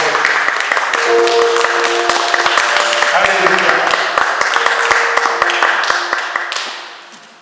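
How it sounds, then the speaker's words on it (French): Church congregation clapping loudly and steadily in scattered taps throughout, with voices and sung tones over it, fading out at the end. "Est-ce qu'on peut donner une acclamation"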